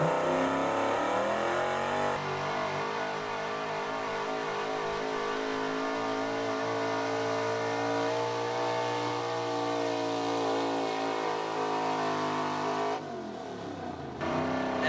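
A 1979 Ford F-250 truck engine roars loud and close at a truck and tractor pull, revving hard and holding a strained, sustained drone with pitch shifts before it drops off near the end.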